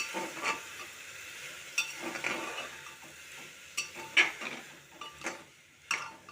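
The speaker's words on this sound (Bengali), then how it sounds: "এবার একটু ভালো করে নাড়িয়ে নেব।" Peas seasoned with turmeric and salt are stirred in a pan, giving quiet, irregular spoon scrapes and light clinks over a faint sizzle, with no voices.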